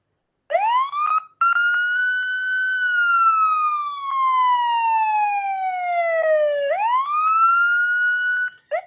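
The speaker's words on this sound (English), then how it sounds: "it has detected police siren" A police siren is played back loud and clear, a single wailing tone sliding slowly up and down over several seconds with no other sound.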